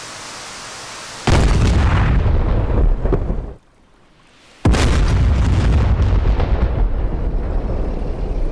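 Two heavy blasts from a TV-guided missile striking its target in DCS World, flown in an Su-25T, each a loud booming burst with a rumbling tail, separated by a brief near-silent gap.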